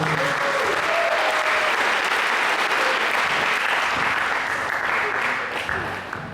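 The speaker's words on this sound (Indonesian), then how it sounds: "Tepuk tangan untuk Pak Reni." A seminar audience gives the speaker sustained, dense applause, many hands clapping at once in a steady roar that holds evenly and tapers off near the end.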